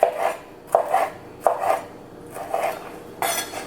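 Kitchen knife slicing beef into fajita strips on a cutting board, five evenly spaced close thuds with brief scraping after each cut, steady rhythm and no talking.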